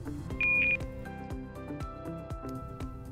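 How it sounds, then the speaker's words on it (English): Audible distance alarm from the Eos Locate field-mapping app: a single short, high electronic beep sounds once, clear over soft background music. "an audible alarm, if set, will sound"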